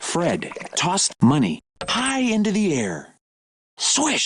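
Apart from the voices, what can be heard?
No everyday noises stand out.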